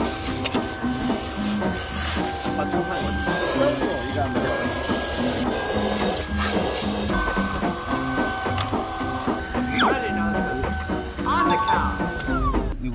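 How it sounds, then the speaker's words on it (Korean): A cordless Invictus X7 vacuum cleaner runs nearby with a steady, high motor whine and a rushing hiss of air, while people talk over it. "내가 청소기 챙겨왔어."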